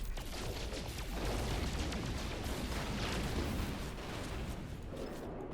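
A photon cannon fires in the space game No Man's Sky as a dense, continuous roaring blast of rapid bursts that stays loud and unbroken throughout, easing slightly toward the end.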